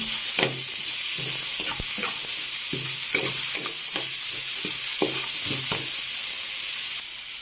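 Carrot stir-fried in a pan for sautéed bean sprouts, a steady close sizzle with repeated scraping strokes of a spatula stirring through the vegetables.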